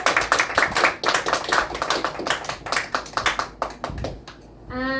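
A small group at a mafia party game claps for about five seconds, a quick dense patter of hands that thins out near the end.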